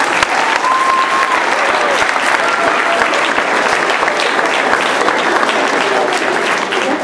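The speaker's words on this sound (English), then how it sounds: "Give them all a round of applause," Sustained audience applause after a school stage production of Peter Pan, dense steady clapping filling the hall for about seven seconds with no break, crowd noise blended in.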